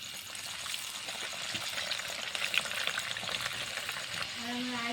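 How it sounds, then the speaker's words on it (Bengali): Coconut pithas fry in hot oil with a steady, close sizzle and crackle that holds throughout, with some stirring and a faint watery hiss near the end. "পিঠেগুলো সুন্দরভাবে লাল হয়ে ভাজা হয়ে গেছে"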